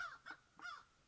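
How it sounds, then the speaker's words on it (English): Two harsh crow-like caws sound outdoors, each short and fairly close, separated by a brief quiet gap. "sorry about the birds"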